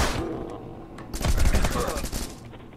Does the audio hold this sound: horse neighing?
no